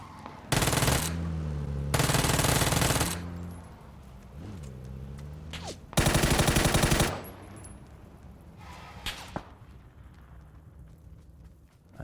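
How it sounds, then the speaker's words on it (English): Bursts of automatic gunfire from a shooter on a distant ridge in PUBG, arriving as three loud, dense volleys of roughly a second each, separated by quieter stretches of game ambience. "There's a guy on the ridge shooting at me from up here somewhere, and he's shooting at someone else, actually."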